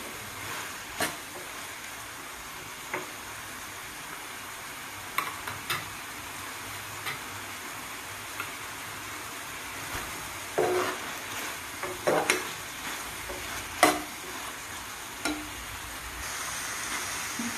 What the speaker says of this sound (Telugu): ఇందులో కొంచెం చింతపండు వేద్దాం. చింతపండు కూడా దీంతో పాటు బాగా మగ్గాలండి.